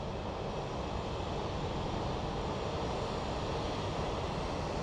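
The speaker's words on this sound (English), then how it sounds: "It is an Airbus A350-1000 departing to London Heathrow" An Airbus A350-1000 departs at night from Sky Harbor International Airport, its engines a steady, broad roar that holds at an even level throughout, with no talk.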